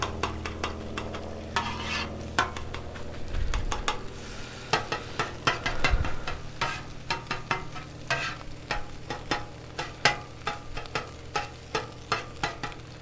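Eggs fry on a Blackstone griddle with breakfast blend seasoning, a steady close sizzle broken by repeated sharp scrapes and taps of a spatula against the flat-top, with no voices.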